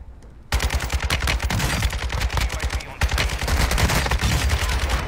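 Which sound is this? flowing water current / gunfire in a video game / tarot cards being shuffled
gunfire in a video game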